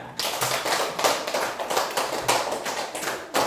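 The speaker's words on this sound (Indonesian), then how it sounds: "Tepuk tangan" Dense group applause in a classroom, many hands clapping together steadily and close by after a quiz answer is praised, with no talking over it.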